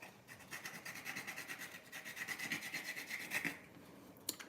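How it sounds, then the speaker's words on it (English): Nutmeg scraped over a small grater onto almond and green banana porridge, a quick run of rhythmic rasping strokes, close and fairly soft, ending with a brief knock. "the next thing I'm going to do is just top it off with some nutmeg"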